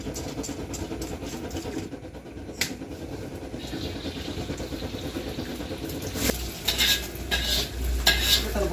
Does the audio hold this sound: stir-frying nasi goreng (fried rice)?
yes